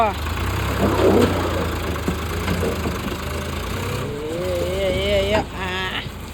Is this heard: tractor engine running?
yes